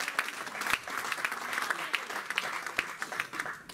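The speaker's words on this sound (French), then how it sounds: "donnons une acclamation au Seigneur" Congregation applauding and cheering in a church service, a lively, moderately distant clatter of many hands with a few sharp louder claps standing out, continuing steadily throughout.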